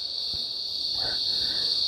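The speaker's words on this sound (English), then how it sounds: "I don't know if you guys can hear the cicadas, but they are deafening." Loud, steady insect drone of cicadas fills a garden, a continuous high-pitched buzz holding without pause, with faint low thumps and rustles beneath.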